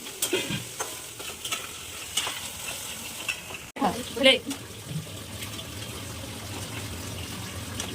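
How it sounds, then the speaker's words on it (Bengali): Onions fry into crisp birista for chicken biryani, a steady oily sizzle with stirring scrapes and a brief clatter midway, while a person talks briefly over it. "এখন রান্না করে ভেজে বেরেস্তা বানিয়ে দিচ্ছি"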